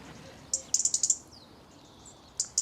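A robin gives a sharp territorial alarm call in a UK garden: a quick run of about six high, clipped chirps, then a pause and two more, moderately faint against a quiet background.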